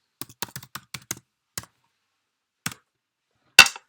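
Keys on a computer keyboard are typed in a quick run of separate clicks, then a pause, one more tap, and a final louder keystroke, with no other sound between.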